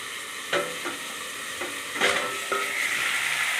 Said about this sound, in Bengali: আবার ঢাকা খুলে আবার ভাজতে থাকলাম।